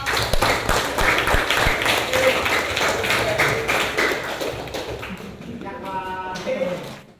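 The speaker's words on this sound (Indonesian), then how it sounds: "Beri tepuk tangan buat kelompok." Students in a classroom clap for a discussion group, a brisk, fairly close round of applause that thins out before a teacher's voice comes in at the end.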